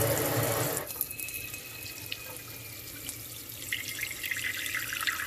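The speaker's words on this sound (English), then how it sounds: "I go ahead and fill that bowl with water." Running tap water splashes loudly into a bowl for about a second, then continues as a quieter, steady fill with faint drips, close by.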